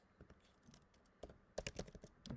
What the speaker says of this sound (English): I click the T for text, and I'll start typing away.